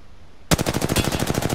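Rapid automatic gunfire in a video game erupts suddenly and loudly after a quiet moment, then continues as a steady burst of close, evenly spaced shots aimed at the player.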